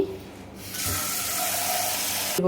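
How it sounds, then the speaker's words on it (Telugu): Tap water runs in a steady broadband gush into a bowl of dried prawn shells being washed for a Godavari-style gongura curry, starting after a short quiet lead-in and continuing loud and close to the end. "ఇప్పుడు మళ్ళీ ఏం చేయాలంటే దీంట్లో కొద్దిగా వాటర్ వేసుకోవాలి"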